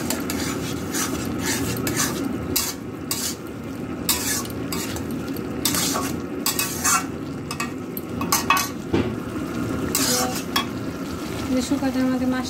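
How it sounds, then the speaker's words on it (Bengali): Fish is stirred and fried in a pan, giving a loud, steady sizzle with scraping and clinking of a utensil against the metal pan throughout. "শুকাতের মধ্যে মাছটা দিয়ে দিচ্ছি নাড়াচাড়াতে আর একটু জাল দিয়ে নিচ্ছি"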